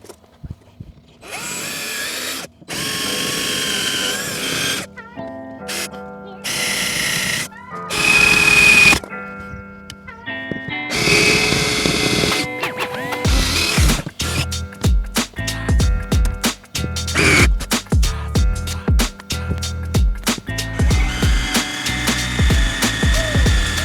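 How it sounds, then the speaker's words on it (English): Drill bit drilling out the rivet heads on a 2020 Toyota RAV4 door: loud close bursts of whining power-drill spin that stop and start repeatedly, then a series of rapid choppy grinding bursts. "take a drill bit, drill these out, drill the heads off, and you can pull the whole thing out"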